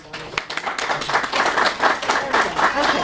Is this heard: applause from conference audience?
yes